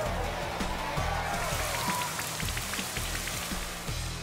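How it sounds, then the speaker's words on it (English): Rain summoned by Rain Dance in Pokémon Sword/Shield patters steadily as a dense hiss of drops over a looping battle music track, continuous and fairly loud. "Here comes the rain!"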